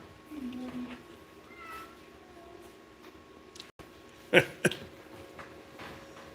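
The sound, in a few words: cat meowing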